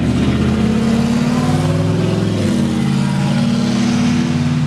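A car engine runs loudly and continuously with a rough, uneven hum that shifts in pitch about halfway through.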